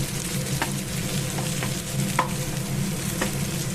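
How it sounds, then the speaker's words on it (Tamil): Chicken chukka dry roasting in a pan with chilli powder masala, crackling and sizzling continuously while a spoon stirs and scrapes with occasional sharp clicks against the metal. "நல்லா ட்ரை ரோஸ்ட் பண்ணுங்கள்"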